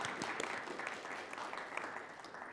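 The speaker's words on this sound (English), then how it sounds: "Please give them all a round of applause." An audience at an evening national security and surveillance program gives a round of applause for introduced guests, a faint but continuous crowd clapping with scattered sharper individual claps throughout.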